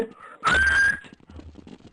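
A single sharp whistle blown as a signal, one steady shrill blast lasting about half a second, loud and close amid a quiet background.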